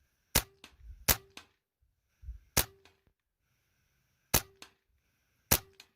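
A Benjamin Maximus .177 air rifle fires Griffin 20-grain dish-base hollow points at a 40-yard target, five sharp pneumatic cracks, each followed by a faint echo or distant impact, spaced irregularly in near silence.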